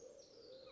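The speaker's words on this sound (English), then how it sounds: "All you can hear is birds, nothing else." Soft, distant owl hooting drifts through a very quiet graveyard on a hillside in a valley, with nothing else heard.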